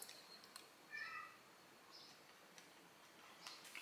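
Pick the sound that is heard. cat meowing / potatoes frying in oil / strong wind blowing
cat meowing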